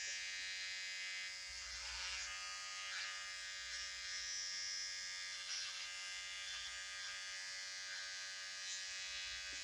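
An electric trimmer buzzes steadily and close up while trimming a moustache, its tone wavering slightly as it moves across the lip, with no talking.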